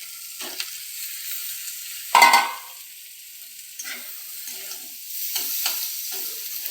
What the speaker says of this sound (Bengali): এখন মেথি শাকটা দিয়ে দেবো।